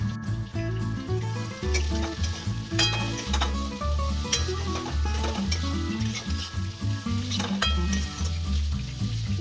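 Okra cooked with yogurt fries loudly in a pan, a continuous crackling sizzle broken by scraping and clinking as a spoon stirs it repeatedly, close and alone.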